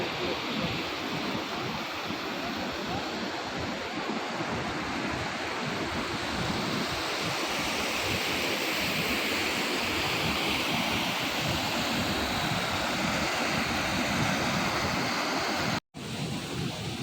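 A waterfall roars in a steady, dense wash of falling water heard up close, continuous and loud throughout with only a brief dropout near the end and no clear talk.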